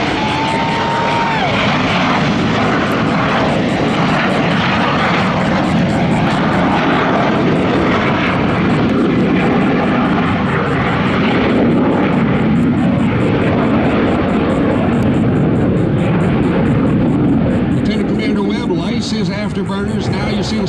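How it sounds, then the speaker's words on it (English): A loud, continuous jet afterburner roar from a Blue Angels airplane at an air show at NAS Pensacola dominates throughout, steady and close, with a voice talking over it. "Blue Angel number 6, the airplane closest to us, will light his afterburner"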